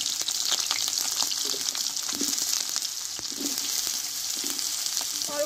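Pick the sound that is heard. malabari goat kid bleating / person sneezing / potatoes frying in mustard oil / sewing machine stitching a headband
potatoes frying in mustard oil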